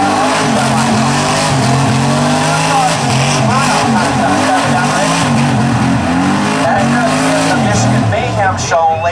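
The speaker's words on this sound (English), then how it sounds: "he's cooking the tires" A drag race car at a speedway spectator drag event spins its tires in a long, loud, sustained burnout roar with squealing tones, with voices faintly mixed in underneath.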